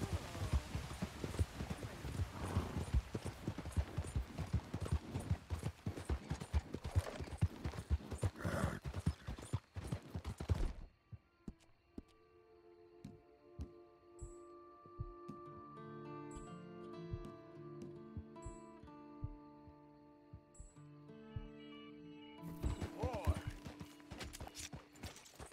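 Horse hooves clip-clop steadily in Red Dead Redemption 2, a dense run of close hoofbeats that stops abruptly and gives way to soft, sustained background music.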